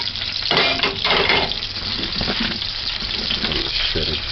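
Chopped onion sizzles in a hot pan with pimento seed and pepper for stewed cabbage, a steady close crackle and hiss with a few soft clinks of utensil against the pan.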